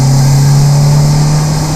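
A turbocharged Toyota Corolla fitted with a big single turbo pulls hard in third gear, its engine holding a loud, steady drone close by with no one talking.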